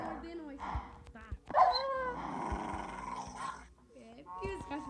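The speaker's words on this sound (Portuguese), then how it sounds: "É, porque esse cachorro é mau." A dog in the Minecraft video game barks and growls in short bursts, with people talking over and between the barks.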